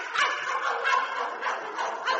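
A man imitates a small dog barking, producing a series of rapid, raspy yapping barks at close range in a comedic radio-style performance.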